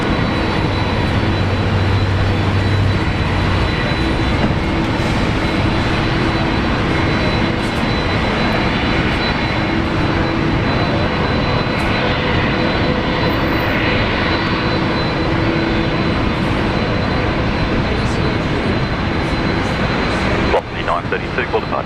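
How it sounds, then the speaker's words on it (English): Jet airliner engines roar steadily and loudly at Brisbane Airport as a big Qantas jet pushes out for Sydney, a continuous broadband drone filling the whole stretch with a faint tonal whine above it. "the big QF330 out, pushing out for Sydney as well. What a beast."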